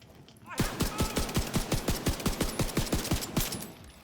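Rapid video game sniper and gun fire aimed at a decoy, a fast regular burst of loud sharp shots lasting several seconds after a brief quiet start.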